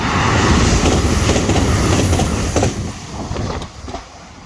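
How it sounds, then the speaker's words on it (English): An express train rushes past the Dunmurry Glebe Road level crossing in Belfast, a loud, continuous rumble of wagons with clattering wheels that eases toward the end. "Oh, train's coming this way. Okay, it's an express one."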